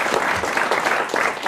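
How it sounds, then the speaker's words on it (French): Studio audience at a 1996 French television show applauding, a dense, steady burst of clapping close by, with no talk over it. "aux applaudissements des spectateurs du grand studio"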